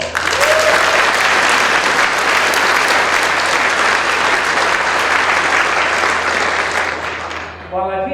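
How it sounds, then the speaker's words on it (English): A large dinner audience at the Grand Prairie State of the City event gives a loud, dense round of applause for EMS staff, sustained for several seconds before tapering off near the end. "Let's give them a round of applause."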